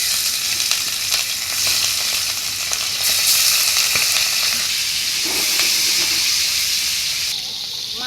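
Rohu fish frying in hot oil, a loud, steady sizzle and hiss that holds through the whole stretch with faint stirring and a brief voice near the end.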